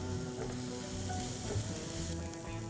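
Onion softening in oil in a pan gives a continuous, even sizzle with a low underlying hum, fairly quiet and steady, with faint stirring touches and no talk.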